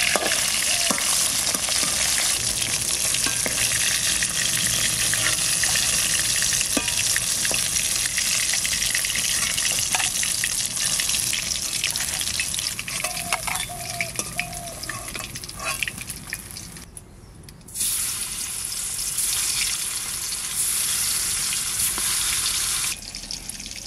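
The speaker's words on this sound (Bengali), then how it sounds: "মাছ ভাজা হয়ে গেছে, তুলে নেবো এবার।" Black carp tail pieces frying in hot oil, village style: a continuous, dense hiss-and-crackle sizzle with irregular pops, briefly dipping quieter around the middle before resuming.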